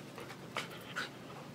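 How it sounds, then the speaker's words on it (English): A playful dog pants softly in quick, breathy bursts, with a couple of slightly louder huffs standing out against a quiet indoor background and no talking. "He just wants to play with the other dog."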